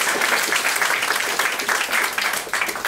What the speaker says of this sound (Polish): Brawa dla panów z Wopru.